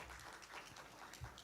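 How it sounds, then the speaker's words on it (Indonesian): Faint, distant applause fills a large hall at a postgraduate school's graduation ceremony, a short stretch of steady clapping heard alone. "Tepuk tangan."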